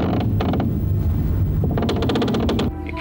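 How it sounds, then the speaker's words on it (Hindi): Windows rattling and creaking in a strong wind inside an old mansion, a loud continuous clatter of rapid knocks and creaks that drops off abruptly near the end. "ये खिड़कियां खटखटाने लगी है।"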